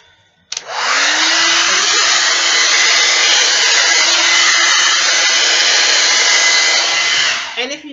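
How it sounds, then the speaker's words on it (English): A blow dryer drying a straight synthetic wig switches on abruptly and runs as a loud, steady whooshing roar for about seven seconds before cutting off, with no talking over it. "take that blow dryer"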